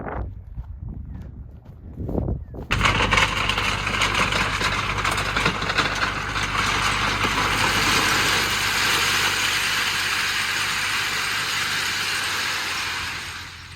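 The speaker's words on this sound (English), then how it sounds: "truck's coming right down the driveway right now" A truck delivering rocks comes down a driveway, its engine building to a loud, continuous rumble and roar that holds close by after a few quiet seconds of faint sounds.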